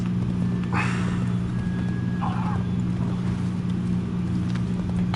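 A horse's hooves clip-clop in Assassin's Creed 3, a few hoof strikes over a constant low droning hum, with no talk.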